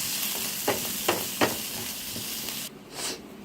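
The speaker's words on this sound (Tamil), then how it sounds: "அதையும் நல்லா வறுத்து விட்டுக்கலாம்." Mint leaves and spices frying in a pan during a banana-flower recipe give a steady close sizzle with a few sharp stirring scrapes, the hiss briefly dropping away near the end.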